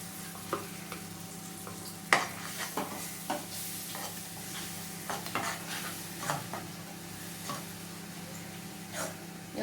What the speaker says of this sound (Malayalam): നന്നായി ഇളക്കത്